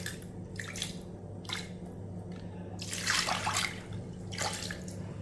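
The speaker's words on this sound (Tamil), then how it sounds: "நல்லா ஊற வச்ச தண்ணியும் இதிலே ஊற்றிக்கிடுவோம்" Soaked water being poured into a pressure-cooker pan in a home kitchen, a soft close splashing trickle in a few short bursts over a steady low hum.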